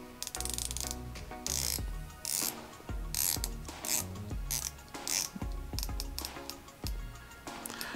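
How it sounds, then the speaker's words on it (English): A tight dive-watch bezel on a 300 m automatic diver is turned through a run of crisp, pronounced clicks, close up and loud, with short pauses between bursts of ratcheting. "So it's a very tight bezel and it has very pronounced clicks"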